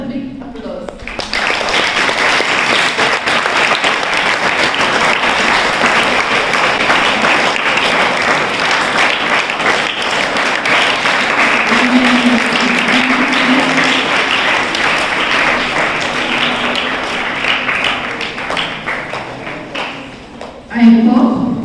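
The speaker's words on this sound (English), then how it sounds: "your class teacher also who animated them need once more a big applause." Students at a school assembly celebrating World Environment Day clap in sustained, lively applause for around twenty seconds, a dense patter of many hands in a reverberant hall, with a few voices near the end.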